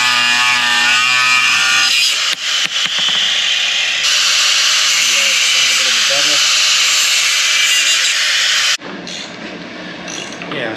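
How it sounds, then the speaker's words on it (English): A bolt being cut off an M715 front Dana 60 axle: a steady, loud, hissing cutting noise runs nearly the whole time, then drops off near the end. Some faint talk can be heard. "we got the bolt cut off"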